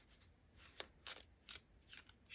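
Tarot cards shuffled by hand in a quick series of crisp riffling bursts, about six close papery flutters in an uneven rhythm, soft and near against a quiet room.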